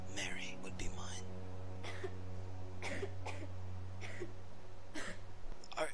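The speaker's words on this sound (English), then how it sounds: "Yes, it's just a cough." A character in the video game Amnesia: My Love coughs several times in short, rough bursts over a steady low drone of game ambience.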